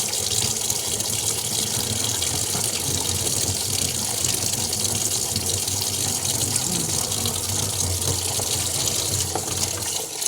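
Water gushes steadily into a basin, a continuous loud, close pouring and splashing that stays even throughout with no voices.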